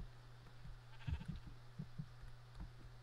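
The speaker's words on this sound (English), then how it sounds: "Oh, that's a horse." A horse in the Minecraft video game gives a few short, faint bleating calls over a low steady background hum, with quiet gaps between them.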